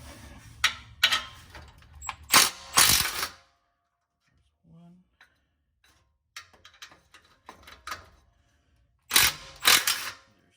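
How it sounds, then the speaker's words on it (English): Ratchet loosening 15 mm exhaust bolts under a lowered 2008 Chevy Tahoe with a 5.3L engine, several bursts of close, sharp clicking separated by quiet pauses. "Take off these bolts back here. So this is just a 15 mil."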